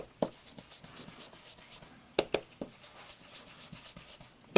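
A pencil or marker rasps in short, quick strokes across embossed paper, with soft repeated scratching in a rhythm broken by a few sharper taps, all quiet and close.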